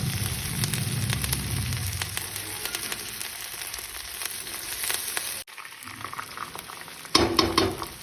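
Dal and peanuts fry in a kadhai with a loud, dense sizzle and stirring scrapes. The sizzle thins out partway through, then a brief bright clatter follows.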